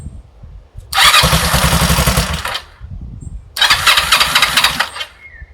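A Kawasaki ER5 motorcycle on a booster box fires up twice, each start a loud, near burst of rough running lasting a second or two, with a short quiet gap between them.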